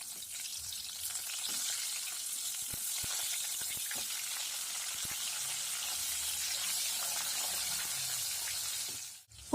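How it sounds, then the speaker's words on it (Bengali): Pointed gourd (potol) frying in the same hot oil used for paneer, giving a steady dense sizzle and crackle throughout with occasional soft stirring clicks, close and alone. "এবার আমি ওই তেলেই পটলগুলো ভেজে নেব।"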